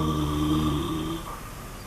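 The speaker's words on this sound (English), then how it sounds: "a snoring badger" A badger snoring, a low rumbling, harmonic rasp that holds steady for about a second before fading into quiet breathing noise, close and alone.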